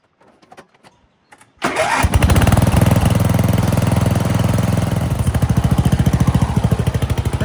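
A worn, oil-leaking riding lawn mower engine cranks and catches after a few clicks, then runs loud and close with a steady chugging idle throbbing on its own.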